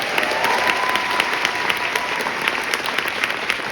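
An audience gives a standing ovation at a curtain call after a Jesus Christ Superstar musical performance: dense, sustained clapping from a large crowd, loud and continuous throughout.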